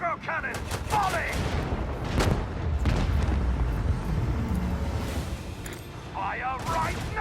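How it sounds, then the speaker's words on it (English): Macro cannons in Warhammer 40000: Rogue Trader fire a volley of repeated booming blasts with explosive crashes, mixed with game effects and voices talking. "Macro cannons, volley!"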